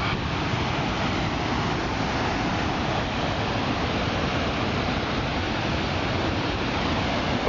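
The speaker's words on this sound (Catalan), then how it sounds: "mireu aquí el pas del poble com baixa el riu avui" The flooded Llobregat river rushes past a village in a dense, constant roar of turbulent water, loud and unbroken throughout with no voices.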